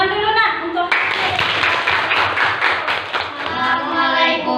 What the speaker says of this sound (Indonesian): Tepuk tangan dulu, Nak